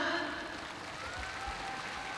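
Audience applause at the opening ceremony of the 2015 Asia Pacific Deaf Games, a steady wash of clapping that fills the whole moment, with faint sustained tones in the background.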